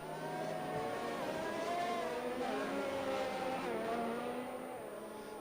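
Racing cars circle behind the safety car at Italy in a racing video game. Engines drone at a steady, moderate pitch and rise and fall gently, forming a continuous hum with no talk.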